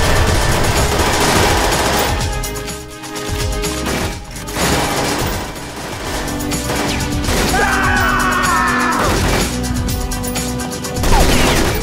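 Heavy automatic gunfire in the Xbox 360 shooter Perfect Dark Zero: loud, continuous bursts and crashing impacts, with brief lulls before the shooting resumes.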